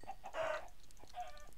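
A chicken in Minecraft gives a short pair of faint clucks, set apart by a brief gap, over a low steady background.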